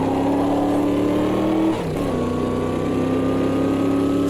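A Corvette C3 in Automobilista 2 growls with a loud, steady engine note that dips briefly as the throttle lifts, then climbs again in a rising rev with no one talking.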